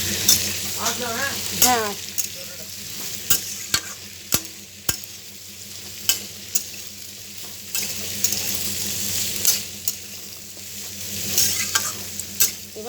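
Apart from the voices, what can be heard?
cut bitter gourd frying and being stirred in pan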